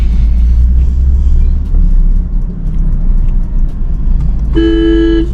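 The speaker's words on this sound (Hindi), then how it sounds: "लोग हॉर्न बजा बजा के पागल हो गए हैं।" A car horn honks loudly and steadily near the end, over the low engine rumble of a stopped traffic jam on a road trip between Jaisalmer and Udaipur in Rajasthan.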